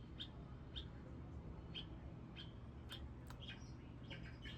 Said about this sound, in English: And the oma'o.